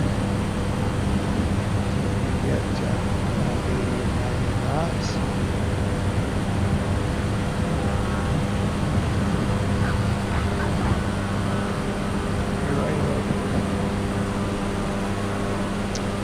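Cessna Grand Caravan turboprop taking off in Microsoft Flight Simulator, a steady, even engine drone running throughout beneath someone talking.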